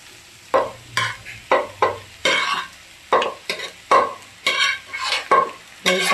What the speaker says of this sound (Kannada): ಇದಾದಮೇಲೆ ರೈಸ್ ಹಾಕ್ಕೋಬೇಕು.